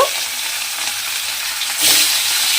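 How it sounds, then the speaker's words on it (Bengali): Pieces of snakehead fish drop into hot oil and fry with a loud, steady sizzle that surges louder near the end as more fish goes in. "এবারে মাছগুলো আমি ভালো করে ভেজে নেব তার জন্য একটা একটা মাছ আমি তেলের মধ্যে দিয়ে দেব"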